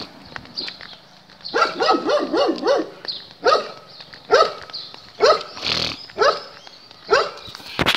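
A dog barks repeatedly near the microphone, starting with a quick run of barks and then continuing with single and paired barks at irregular intervals.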